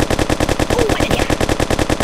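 Rapid automatic gunfire from the mobile game Kick The Buddy, a steady, evenly spaced burst of shots that runs unbroken and close.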